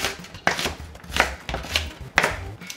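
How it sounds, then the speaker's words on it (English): A knife chops onions on a cutting board at home while pulled pork is being made: steady, sharp rhythmic thunks, about one every half second, close and clear. "That's how I'm chopping it."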